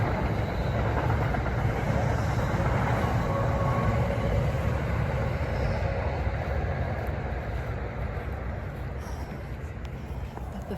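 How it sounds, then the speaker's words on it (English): A train rumbles past in a steady, loud roar of wheels and engine that holds for several seconds before slowly easing off, with faint talk in the background. "Train."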